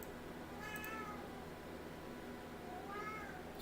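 A rescued pet cat meows to be let outside, two separate drawn-out calls a couple of seconds apart, faint against a steady background hiss.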